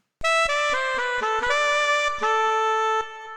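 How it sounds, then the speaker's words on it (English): A Korg M1 synthesizer saxophone patch plays a short melodic phrase of sustained, reedy notes with distinct attacks, bright and close, alone with no voices. "Here we have a saxophone."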